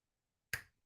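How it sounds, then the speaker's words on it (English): A single sharp finger snap, close and crisp, cutting through silence and decaying quickly. "So I'm going to do this by snapping your fingers."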